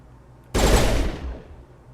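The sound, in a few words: gunshots in the video game Mass Effect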